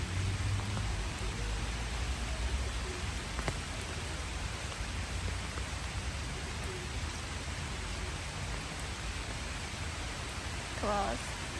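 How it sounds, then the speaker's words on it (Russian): Rain falling on city streets during a downpour, a steady dense hiss of rain on surfaces throughout, continuous and close, with faint background sounds. "А послушайте, какой шум дождя."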